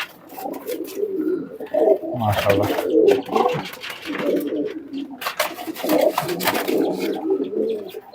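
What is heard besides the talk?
Salera pigeons cooing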